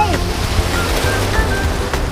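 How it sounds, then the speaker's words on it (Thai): Strong, rough sea waves breaking on a beach roar steadily and loudly throughout, with wind buffeting close to the microphone and faint voices in the background. "น้ำทะเล สวยอ่ะแต่เสียดายวันนี้คลืนแรงไปหน่อย"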